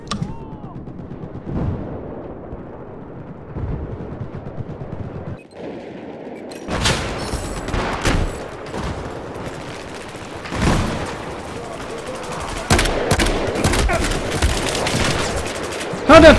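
Shotgun blasts from a video game go off as scattered loud shots over sixteen seconds, separated by quieter stretches and growing denser toward the end, with a player talking in places.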